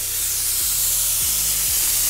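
Spray paint hisses in a steady, loud, continuous jet in a backyard paint shop, with a low hum running underneath and a few brief dips in pitch.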